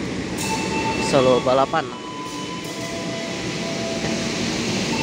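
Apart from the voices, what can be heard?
train Fajar Utama YK running, overtaken by Argo Dwi Pangga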